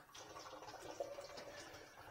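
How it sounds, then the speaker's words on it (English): Motor oil from a 2021 Dodge Durango drains in a faint, steady liquid trickle into a pan, continuous and quiet across the moment with no voices. "as soon as we get this oil drained out completely. And it's draining nicely."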